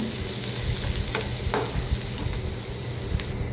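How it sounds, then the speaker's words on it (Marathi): Onions being sautéed and stirred in a pan for a Maharashtrian sandgyachi bhaji curry, a steady close sizzle of frying with scraping stir strokes throughout, no talk. "आता हे परतून घेते व्यवस्थित"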